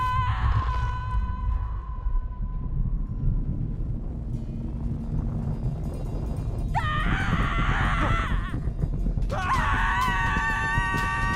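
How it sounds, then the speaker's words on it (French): Loud, sustained screaming in a French family comedy film, rising into shrill bursts near the end, heard over a steady noisy background. "Arrête de crier."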